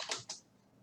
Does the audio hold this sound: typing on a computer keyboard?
yes